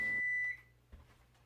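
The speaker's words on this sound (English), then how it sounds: "that timer went off" A kitchen timer gives a single electronic beep that rings out clearly and then fades, followed by quiet room tone with a faint knock.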